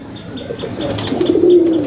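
Madrasi pigeons in a loft at Ichhapur, Kolkata: one close, low coo swells near the end over a steady loft hum, with faint, evenly spaced chirps in the background.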